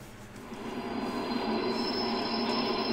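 Train rolling steadily along rails in The Division's underground setting, a continuous close rumble with a faint high squeal running throughout, no talking.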